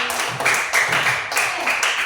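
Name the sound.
applause for Resti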